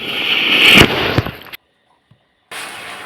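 Vishu firecrackers burst during a festive night, two sharp loud pops over a hissing, crackling sparkler, followed by sudden silence and then background noise resuming.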